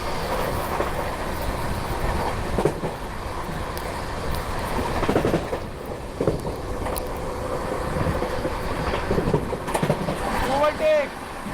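Amrit Bharat Express 13698 Delhi–Gaya train running and overtaking a parcel train, a dense continuous rumble of wheels and carriage noise with occasional clatter and a brief squeal near the end, heard from inside.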